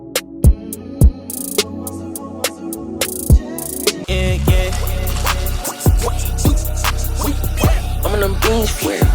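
An ethereal hip hop beat: sparse plucked notes and sharp hits, then heavy bass and drums come in halfway, loud and continuous, no talk.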